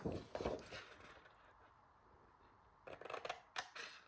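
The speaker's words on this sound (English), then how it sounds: "we're going to cut along that score line and this score line and remove that" Scissors cut paper along a score line while making a small storage holder, with a few close crisp snips at the start and again near the end, separated by a quiet pause.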